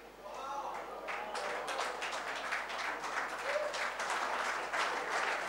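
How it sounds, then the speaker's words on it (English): Audience clapping at a conference session in a Chennai hotel: steady, fairly faint applause from a crowd, continuous and even, with voices mixed in underneath. "I asked them to start clapping"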